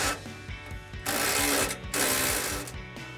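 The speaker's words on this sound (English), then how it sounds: "grab the impact wrench with the 15, and then grab the 19" An impact wrench tightens a shock nut on a Ford F-150 during a rear Fox Performance Series 2.0 IFP shock install, giving loud rapid hammering bursts in two runs with a short pause between.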